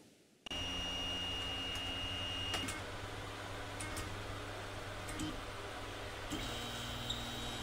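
A 3D printer runs quietly with a steady mechanical hum and sustained tones, punctuated by a few faint ticks and short beeps.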